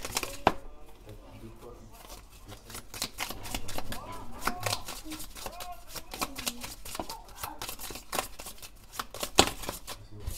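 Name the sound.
playing cards being shuffled and drawn for a reading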